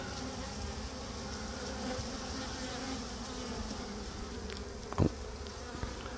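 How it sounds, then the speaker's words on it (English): Dense, continuous buzzing of many bees, close by and steady, with a brief louder bump near the end and no voices. "bees all over my face"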